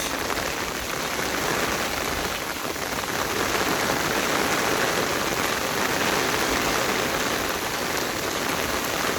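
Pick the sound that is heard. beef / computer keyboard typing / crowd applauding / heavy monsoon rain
heavy monsoon rain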